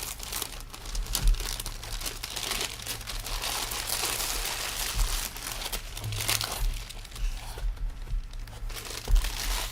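Wrapping paper crinkles and rustles as a present is unwrapped, a steady close-up crackle of scrunching paper with occasional low thumps from handling, no voices over it.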